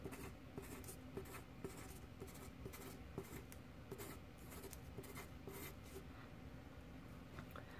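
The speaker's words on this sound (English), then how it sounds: "Pencil in an O next to each element." A pencil writes on paper close up, quick scratchy strokes and small taps in an uneven rhythm, quiet and alone.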